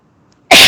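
A single loud, sharp sneeze bursts out after near silence, close to the microphone during a tabletop role-playing game session.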